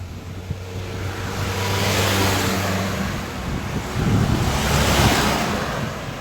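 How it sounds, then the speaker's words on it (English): Fast-flowing floodwater from an overflowing river in Dominica rushes in a broad, loud roar that surges in two waves, mixed with wind buffeting the microphone and a low motor hum. "So I can hear the moving of the waters right where I am now."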